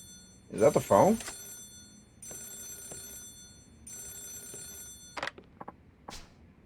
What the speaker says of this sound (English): Is that the phone?